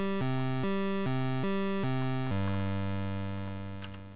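Chiptune notes from a 50% square wave sample play as a short run of buzzy, hollow tones, five quick stepped notes followed by a longer held note that fades out, clean and alone.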